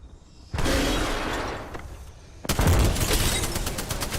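Loud Apex Legends gunfire arriving in two dense bursts, a long crackling volley of rapid shots that fades, then a second heavier barrage with rattling rapid-fire texture, close and unbroken by talk.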